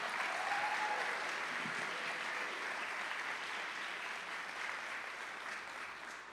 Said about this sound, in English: Let's give all the innovators and entrepreneurs a round of applause.